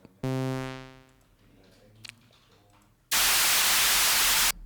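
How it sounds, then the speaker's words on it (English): Noise patch from a DRC synthesizer plugin, heard as a loud, steady hiss of broadband static that switches on abruptly and cuts off cleanly after about a second and a half, preceded by a bright buzzy synth tone and some quieter sounds. "So the last thing that we've got to do is this noise sound"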